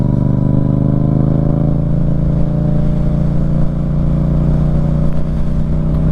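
A 2024 Yamaha MT-07 motorcycle engine drones loud and close, steady revs climbing through gear changes with no talking over it.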